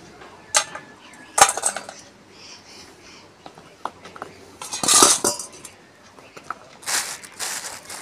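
A cup scooping dried cauliflower florets while cooking a Bengali-style cauliflower dish: sharp clinks and scrapes come in scattered bursts, with the loudest clatter near the middle and end.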